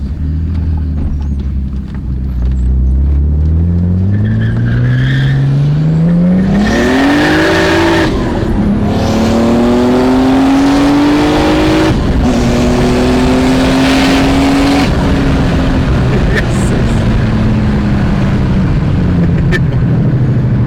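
A big-turbo BMW E36 accelerates hard during a ride-along, its engine note climbing steadily through the gears with a loud, sustained rising roar and the turbo whooshing, heard from inside the car.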